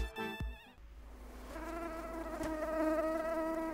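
A mosquito's thin, high-pitched whine hums steadily up close, growing slightly louder over a few seconds and heard alone.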